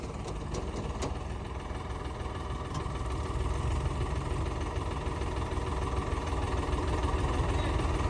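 A potato-digging farm machine engine runs steadily with a heavy, rumbling drone and vibration, growing slightly louder, with no talking.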